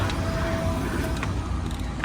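A car or similar road vehicle passes nearby on a rainy rural road, a broad steady roar of engine and tyre noise lasting the whole moment without speech.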